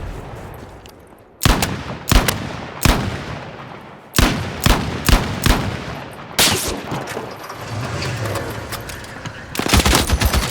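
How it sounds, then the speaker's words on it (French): Machine gun fire in the video game Warzone: loud, sharp bursts of automatic gunfire in several clusters, with rapid rattling volleys near the end and a sustained rumble between them. "Là, on est avec la mitrailleuse."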